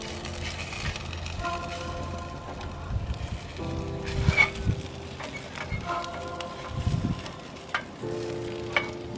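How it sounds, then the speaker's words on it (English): A couple of breakfast sausages frying in a pan, a soft steady sizzle with intermittent scraping and stirring clunks, fairly quiet and close, no talking over it. "Cooking my breakfast. Couple of sausages."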